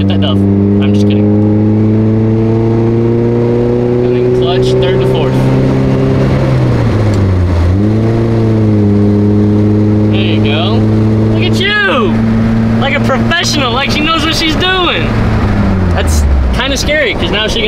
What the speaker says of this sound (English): Let the clutch out, slowly. Give it a little bit of gas. There you go, this is third gear.